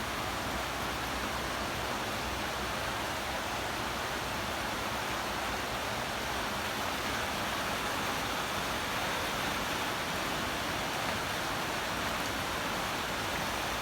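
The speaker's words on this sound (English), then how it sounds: "because it's raining and there's nothing for us to do outside" Steady, dense hiss of rain falling outdoors, constant throughout with no voices, a broad even wash of sound.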